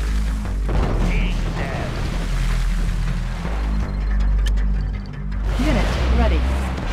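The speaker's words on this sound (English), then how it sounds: "Torpedoes away." Torpedoes launch in a naval strategy video game with deep booming bursts and mechanical thumps, while a synthetic unit voice calls out between the shots.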